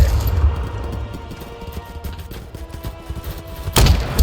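Gunfire in the Vietnam War video game Rolling Thunder: rapid shots crackle in close bursts over a low rumble, ending in a louder explosive blast.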